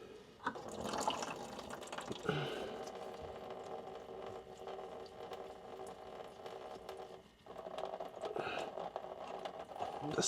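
Fuel trickling and dripping from two disconnected fuel lines on a 1992 Mazda Miata during a fuel filter change, a soft continuous splatter with faint handling noises in a quiet garage.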